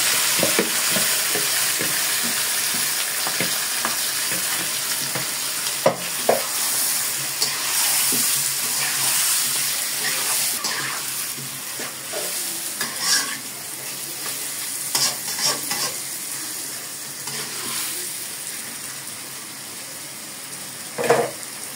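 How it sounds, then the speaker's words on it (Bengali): Masala-marinated chicken added to already fried onions in a pan sizzles loudly and continuously, with occasional stirring clatter over the steady frying hiss and no voices. "এখন আমি মশলা মাখিয়ে রাখা মুরগির মাংসটা দিয়ে দিলাম"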